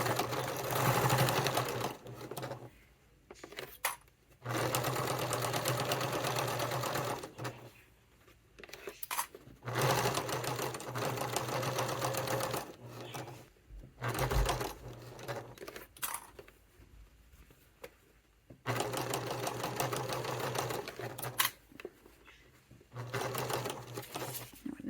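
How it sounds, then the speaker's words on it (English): A sewing machine stitches the seam of a fabric satchel in long, steady runs of rapid mechanical whirring, up close and loud. Short pauses break up the runs. "now I am going to sew this in place"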